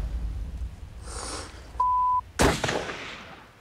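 A rifle shot at wild mountain goats in New Zealand's rugged south, a single sharp loud report followed by a rolling echo, preceded by a brief rustle and a short censor-style beep.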